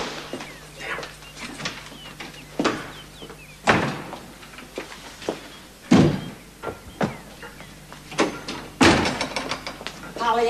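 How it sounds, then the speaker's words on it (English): Doors in a house in a 1973 BBC Pollyanna drama: several sharp bangs and thumps of a door being slammed and handled, close and loud, amid footsteps and light talk. "please do not slam the door when you come into the house"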